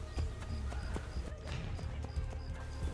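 Horse hooves clip-clop in a steady galloping rhythm in Assassin's Creed: Brotherhood, fairly loud and continuous over low game ambience, with a faint whinny mixed in.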